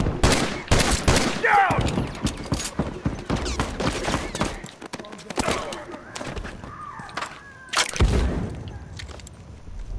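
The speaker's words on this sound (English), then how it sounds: "Where is he shooting me at?" Repeated gunfire in The Last of Us Remastered, a plaza firefight with bursts of shots and loud impacts spread across the scene, some near and sharp, others softer, with no voices heard.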